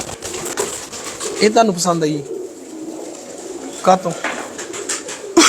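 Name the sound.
pigeons cooing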